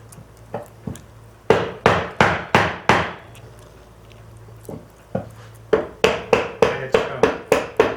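A mallet strikes a hand-forged carving chisel, chopping a mortise in wood: sharp, close wooden knocks in quick rhythmic runs with a short pause between volleys.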